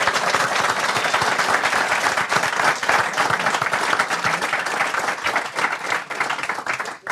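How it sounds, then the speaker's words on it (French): A studio audience at a French football talk show applauds after a Strasbourg versus Le Havre match, with dense, sustained clapping throughout that thins out near the end. "notre cher ami Boris Coriol, que l'on peut remercier encore une fois et applaudir, s'il vous plaît."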